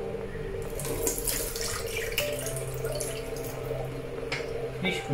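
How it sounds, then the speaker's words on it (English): Water runs steadily from a betta fish tank being drained on a rainy day, a continuous gurgling flow with occasional splashes and drips, fairly close and fairly quiet. "we will drain out all the water"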